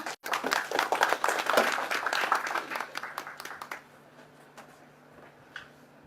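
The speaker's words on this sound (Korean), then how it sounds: "박수로 맞아주세요." Audience at a basic income forum session applauds to welcome the first panel speaker, a dense burst of clapping for about four seconds that quickly thins to a few scattered claps before quiet.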